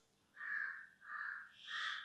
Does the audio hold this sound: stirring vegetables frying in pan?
no